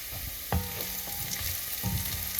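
Steady sizzling of onions frying in a pan, a continuous hiss with a few soft clinks and stirring sounds, no talking.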